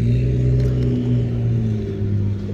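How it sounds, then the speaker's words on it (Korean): A sports car engine drones steadily with a deep, throaty, loud exhaust hum that swells slightly, sustained throughout with no talking. "배기음은 저렇게 커."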